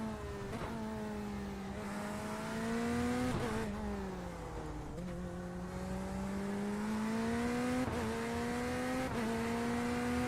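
A high-powered race car engine in iRacing on a small track, droning steadily at sustained revs with a few quick gear shifts that dip and climb again, close and continuous with no talk.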